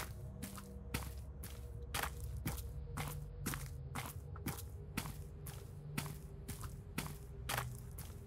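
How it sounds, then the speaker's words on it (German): Player character's footsteps in the video game Missing Hiker, an even run of about fifteen crisp steps at a steady walking pace, fairly close, over a low constant hum. "Das ist meine Schritte, die will ich lauter machen."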